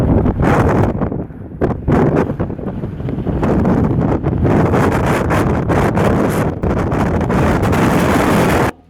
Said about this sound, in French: il y a beaucoup de vent au désert